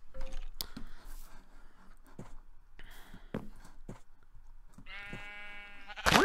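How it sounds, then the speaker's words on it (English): Sheep bleating in the Minecraft video game, one long wavering bleat standing out near the end among scattered clicks and clunky game sounds, with no talking. "I could use the wheat to gather the sheep into my farm"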